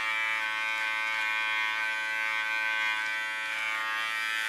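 An electric hair clipper buzzes steadily and close up while cutting ultra-short hair for a feminine clipper cut, a continuous bright whine with no talk over it.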